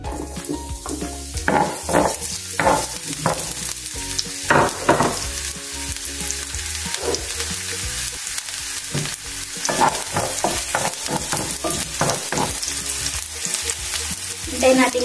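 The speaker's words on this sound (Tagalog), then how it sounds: "Maglagay tayo ng oil sa ating kawali. Sunod natin ang bawang." Garlic frying in oil in a wok-style pan for vegetable spring rolls, a continuous close sizzle broken by repeated scraping stir strokes and clinks of a utensil against the pan, with no talk.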